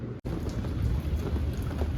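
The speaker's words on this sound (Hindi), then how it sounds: "तो अब बाहर हो रही है बारिश" Steady rain pours outside with a low rumble of thunder beneath it, a dense continuous hiss close by, with a brief dropout near the start.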